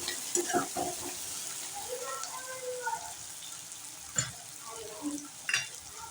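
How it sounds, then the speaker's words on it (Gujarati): Finely chopped green chillies and ginger sautéing in a pan for Gujarati batata poha, a steady sizzle with scraping stirs and a few sharper clinks, faint background sounds over it. "ઝીણા સમારેલા, મરચાંને પણ આપણે સાતળી નાખીએ."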